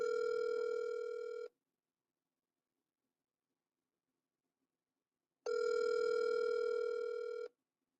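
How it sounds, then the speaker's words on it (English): A phone call rings out through the earpiece while waiting for an answer: two long, steady ringback tones, each about one and a half seconds, separated by four seconds of silence, heard clearly with no talk. "Come on, answer the phone, cuz I promised them a prank call."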